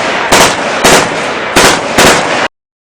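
Four loud, evenly spaced gunshot bursts ring out at close range, each a sharp blast over a constant roaring background that then cuts to silence.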